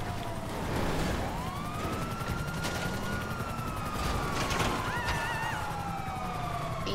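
Police car sirens in the video game GTA 5 wail in long sweeping tones at moderate distance, overlapping with a second higher siren, over a dense background of game noise and scattered sharp bangs.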